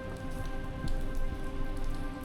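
Rain falls on a city neighborhood street in China, a soft, steady patter of drops on hard surfaces, fairly faint and even throughout, with no one talking.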